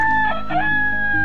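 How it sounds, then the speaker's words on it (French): A rooster crows in the village-building game Towns, a single loud, sustained call with a strong ringing tone, heard close over steady game background sound. "il va me casser les pieds ce coq"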